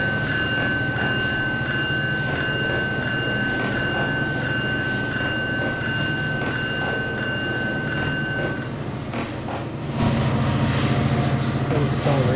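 Train in the Trainz 22 simulator pulling gallery cars, with a steady engine drone and a constant high whine that drops out near the end. The rumble then swells louder and rougher as the train keeps accelerating.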